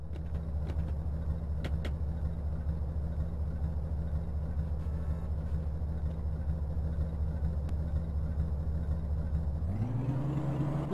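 Car engine in GTA San Andreas idling at a low steady rumble, then revving up sharply near the end as the car pulls away, close and continuous without talk.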